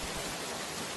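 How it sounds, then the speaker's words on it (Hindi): Heavy rain pours in a cartoon story, a dense, steady hiss of rainfall that stays level throughout with no voices over it. "बारिश बहुत तेज हो रही है।"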